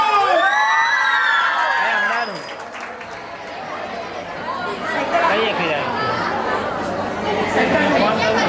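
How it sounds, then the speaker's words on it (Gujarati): Audience at a school institute's annual function welcoming student performers: a brief musical passage gives way to a lively crowd of chatter, cheering and shouts, with scattered applause. "તો જોરદાર તાળીઓથી ધોરણ 9 અને 8 ના વિદ્યાર્થી ભૂપિન્દ્ર અને વિરાજનું સ્વાગત કર્યું જાય."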